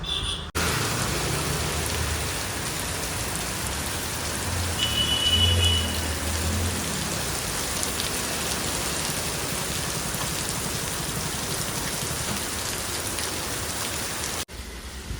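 Steady rain falls throughout, a dense even hiss of drops hitting surfaces outside a small shop, fairly loud and continuous with no voices.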